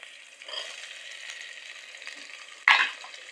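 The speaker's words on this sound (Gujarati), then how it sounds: "આ બધું થોડી કકડવા દઈએ મસાલો ડુંગળી ટમેટા ને" Onion, tomato and masala spices frying in a pan, a steady soft sizzle throughout with a louder burst of crackling near the end as the mixture is stirred or something is added.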